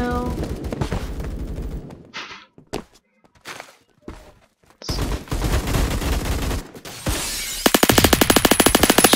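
Gunfire in the Roblox shooter Phantom Forces, with scattered single shots and short bursts breaking through silent gaps, ending in a rapid sustained automatic volley, loud and close.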